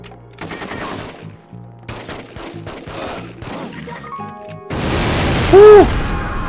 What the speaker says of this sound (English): That's a big ass fucking explosion